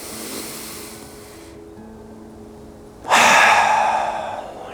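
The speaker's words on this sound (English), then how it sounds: "the only true thing right now is big, juicy, fucking filled, slow, deep, from my ass to my head breath" Slow, deep, full breath, drawn in softly and then let out in a louder, rushing close exhale, heard alone.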